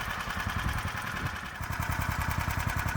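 A HISUN UTV fitted with a swapped Predator big block engine idles steadily, a loud, close, rhythmic mechanical chugging that continues without pause and with no voices.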